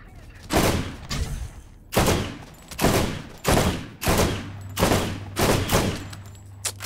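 Gunfire in the Borderlands video game: seven or eight heavy, evenly spaced shots, each a loud sharp crack with a decaying tail, over a low steady game hum and no talk.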